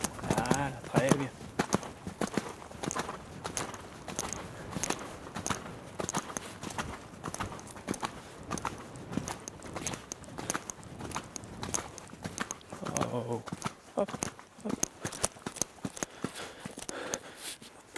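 A horse canters through a gymnastic line of jumps, its hooves beating a quick, regular rhythm of thuds across the whole stretch, moderately close, while a rider or coach talks over it.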